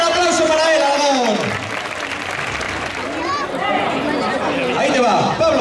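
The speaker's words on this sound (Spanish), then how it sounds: "¡Fuerte el aplauso para él, Jalabón!" Crowd applause and chatter at a bull-leaping festival in Alagón, Zaragoza: loud, swelling clapping and crowd noise from a large outdoor audience, with a voice calling out over the din.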